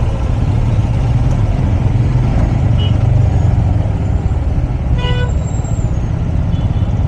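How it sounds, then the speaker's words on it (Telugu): Heavy night traffic around Hi-Tech City and the Financial District: a loud, dense rumble of car, truck and bus engines, with a horn sounding briefly partway through. "ఇంతగా ట్రాఫిక్ ఇంతగా"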